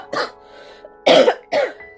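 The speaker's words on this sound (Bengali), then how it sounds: "আমার খুব ঠান্ডা লেগেছে তাই হয়তো আপনারা কাশি পাবেন মাঝে মাঝে" Three loud, close coughs from a person with a cold, a short burst followed by two harsher hacks about half a second apart, with no talking.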